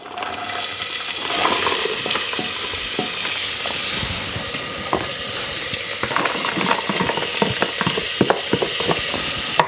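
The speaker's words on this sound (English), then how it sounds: "We've got that hot, so now we're going to start the cooking process. We're going to put our onions in." Onions dropped into hot sun-dried tomato oil in a saucepan sizzle loudly and steadily, with frequent crackles and spits throughout and no talking.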